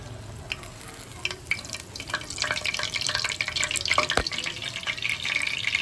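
Chayote fries in hot oil with a steady crackling sizzle, punctuated by sharp pops and spatters that grow busier toward the end.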